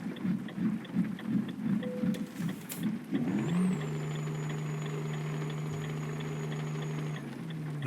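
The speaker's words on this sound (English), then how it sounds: "I don't like how it keeps revving out." Truck engine in Euro Truck Simulator 2, first a rumbling, pulsing idle-like drone, then a sharp rise into a sustained high-revving steady tone with a thin whine above, held loud and constant.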